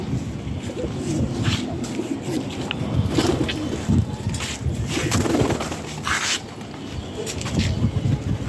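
Pigeons coo repeatedly at close range while being fed, their soft throaty calls layered over rustling and shuffling sounds, with brief chirps in between.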